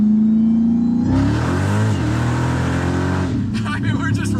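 A Dodge Hellcat engine roars loudly on dyno rollers, climbing in pitch as it revs hard and holding a steady high drone before tapering off, with voices talking over the engine.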